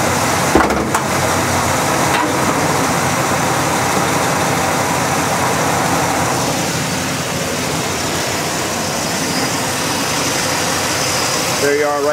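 A 1966 Pontiac GTO with its 389 tri-power V8 idles steadily and fairly loud throughout, a low continuous engine rumble with broadband noise and no speech over it.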